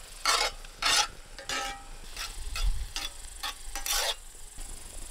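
Mushrooms and potatoes cooking over a wood-fired rocket stove outdoors, giving a steady sizzle broken by repeated close scraping and stirring strokes in a pan at an uneven rhythm.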